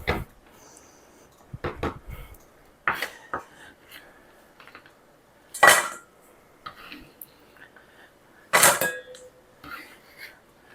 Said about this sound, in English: So I'm just giving them a rough chop.